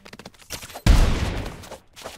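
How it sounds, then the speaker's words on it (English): A single loud video game gunshot bursts in sharply, then a noisy tail decays over a second or so, with faint clicks and game sounds before it. "Oh, you shot my bullet!"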